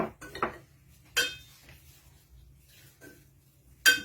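A utensil knocks and clinks against a bowl while ingredients are mixed, a few separate sharp taps spaced out over a few seconds in a quiet room, no talking.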